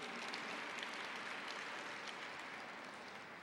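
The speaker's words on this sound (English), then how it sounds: "Let's give them a round of applause." An audience inside San Francisco City Hall claps after a lion dance at a Chinese New Year celebration, a dense, even wash of applause heard faintly from a distance.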